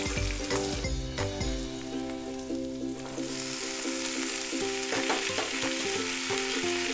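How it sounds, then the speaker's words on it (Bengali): Mixed vegetables are tossed into a pan with already fried potato and eggplant, giving a loud crackling sizzle with stirring scrapes and a faint steady hum underneath, no speech. "সবজিগুলো দিয়ে আমি এর সাথে ভালোভাবে ভেজে নেব"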